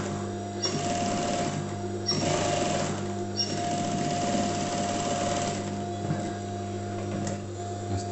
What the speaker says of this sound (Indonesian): kita jahit juga di bagian bawah ya